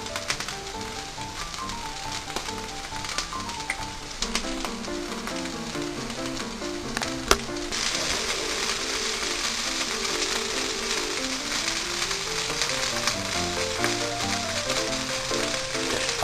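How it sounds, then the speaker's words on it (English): Constant crackling sizzle of thinly sliced scrapple frying in a pan, with background music playing throughout. "Listen to this sizzle."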